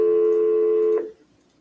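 A single steady electronic tone from a desk phone holds loud and close for about a second, then cuts off abruptly into quiet room noise.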